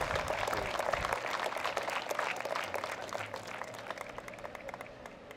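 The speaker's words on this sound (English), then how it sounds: "I want a big Donate Life thank you and round of applause for Kathy" Sustained applause from an outdoor ceremony crowd at the Donate Life Run Walk, steady dense clapping for about five seconds, fading slightly near the end, with no talking over it.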